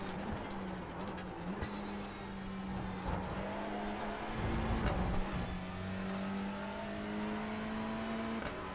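Touring car engine from the iRacing sim at Road America, held at full throttle with a steady droning note and shifting harmonics, sustained and fairly loud throughout with no talking.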